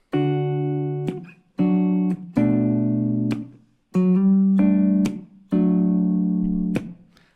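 Close guitar chords strummed in short bursts, each phrase ending in a muted percussive right-hand hit near the pickups, with brief pauses between.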